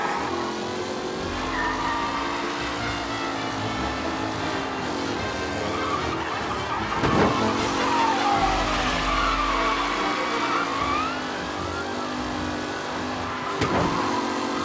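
Race cars in the video game Mafia roar steadily at high revs, with engine pitch sweeping up and down, tire squeals and skids cutting through, and a louder pass near the middle, alone without talk.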